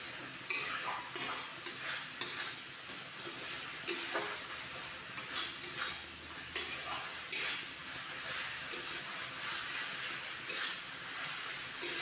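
Tomato paste frying in spiced oil for a vegetarian potoler dorma, a steady close sizzle broken by repeated sharp scrapes and clinks of a spoon stirring in the pan, with no voices.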